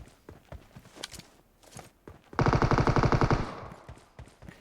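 Automatic gunfire in the mobile battle royale game PUBG Mobile, a loud rapid burst of about a dozen close shots following scattered footsteps and small clicks.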